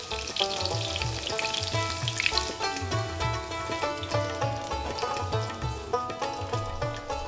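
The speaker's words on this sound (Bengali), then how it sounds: "গরম তেলে ভাজা হচ্ছে পেঁয়াজ মরিচ" Chopped onions and green chillies sizzling in hot oil, a bright close crackle blended with rhythmic background music throughout, with no talking.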